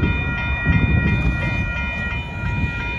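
A northbound Union Pacific freight train of tanker cars rolls past at Dittmar Road in Austin, Texas, a loud close rumble of wheels on rail with a steady mechanical drone and faint rhythmic clacking.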